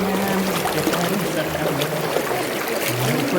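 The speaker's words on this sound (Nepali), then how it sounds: "पानी चुरिन्छ बडा यहाँ त" Jankot river, a mountain stream in Rolpa, rushing with a steady broadband wash of flowing water, close and continuous, with faint voices murmuring underneath.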